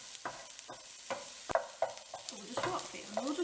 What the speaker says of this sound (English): I know some people cook sausages on a pan, so I'm going to do it